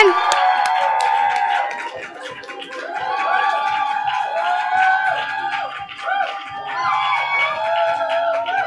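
An audience at a Berkeley slam poetry finals cheers, whoops and applauds for a poet, a loud, sustained crowd roar with clapping that swells and dips throughout.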